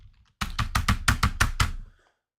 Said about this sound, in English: Why is my keyboard not working?